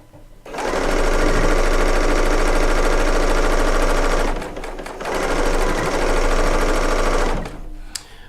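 A serger fitted with a clear presser foot stitching quilt fabric, a loud, fast, steady mechanical chatter in two long runs separated by a brief pause.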